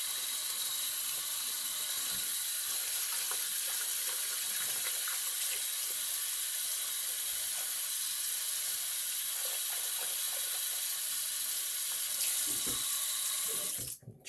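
Water runs steadily from a bathroom tap to rinse shaving gear, a constant close hiss with small clinks of items being handled, cutting off abruptly at the end.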